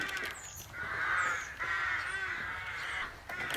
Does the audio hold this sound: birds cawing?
yes